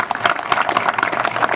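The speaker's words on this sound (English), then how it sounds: "every one of us, a big round of applause" Audience applause at the grand opening of the Blvd, a dense, steady roar of many hands clapping together for the whole stretch, with no voices rising above it.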